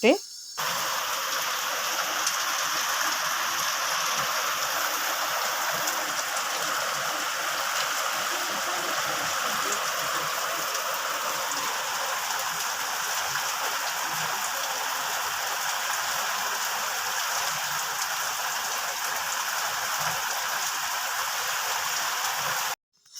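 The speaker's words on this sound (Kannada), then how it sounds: "ಎಷ್ಟು ಕೆಟ್ಟ ಮಳೆ ಬತ್ತಂದ್ರೆ ರೀ" Heavy rain pours down steadily, a dense, unbroken hiss of drops on surfaces close by that holds at the same level throughout.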